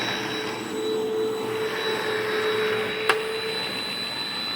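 A Hoover Mach 5 upright vacuum cleaner runs with a loud, steady motor whine and airflow roar throughout, with a single sharp click near the end.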